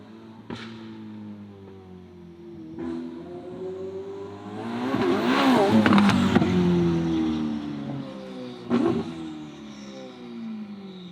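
A Ferrari SF90 fitted with a full Ryft exhaust revs hard: sharp pops crack out at the start, then the engine swells into a loud, rising blare that peaks and fades before a final burst.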